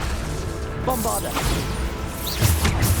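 A Bombarda explosion spell in the video game Hogwarts Legacy lands as a short booming crash, with spoken voices and a quick whoosh mixed in.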